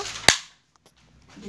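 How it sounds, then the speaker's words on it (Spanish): A toy cap gun fires one sharp, loud crack, followed by near silence and a faint rustle as the clip ends. "Hoy vamos a usar estas pistolitas."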